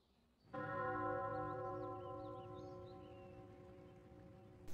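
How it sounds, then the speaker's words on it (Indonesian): A temple bell is struck once, loud and close, and its deep metallic tone hums and slowly fades across several seconds, with faint birdsong behind it. "Pada akhirnya bel kuil pun berbunyi."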